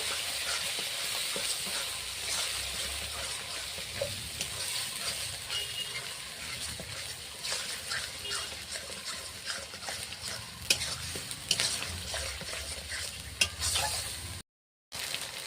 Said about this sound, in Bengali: আদা বাটা দিয়ে দিচ্ছি। আদাটাও ভালো করে কষে নেব।